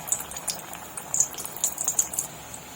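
Small balls of spinach fritter batter dropped into hot oil over low-to-medium heat, giving a soft, steady bubbling fry with light crackly pops scattered throughout.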